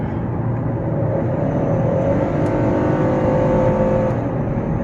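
A 2016 AWD Ford Police Interceptor Utility with a naturally aspirated 3.7 liter V6 drives along, its engine a continuous, fairly loud drone with a rising whine and steady road roar.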